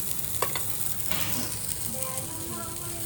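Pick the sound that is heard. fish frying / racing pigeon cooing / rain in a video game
fish frying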